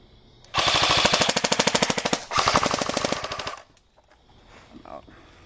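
Two airsoft guns, an A&K M60 and a Dboy M16, fire full-auto bursts at night: a loud, rapid, evenly spaced mechanical rattle lasting about three seconds with one brief break, then quiet.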